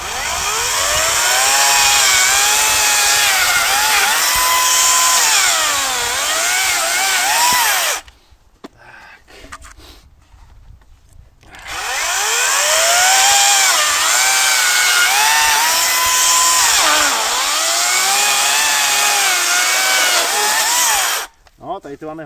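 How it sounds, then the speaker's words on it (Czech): A Parkside PKSA 40-Li A1 twin-battery cordless chainsaw cuts knotty wood in two long, loud, steady runs with a short pause between them and a brief stop at the end. "Ta pila si s tím trošku potrápila, ale řežek furt krásně."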